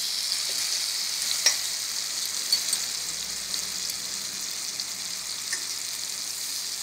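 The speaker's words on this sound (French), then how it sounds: "notre mangue est en train de rôtir délicatement" Mango roasting in caramel in a pan, a steady close hiss of sizzling with a few faint clicks and small pops over a continuous bed of frying.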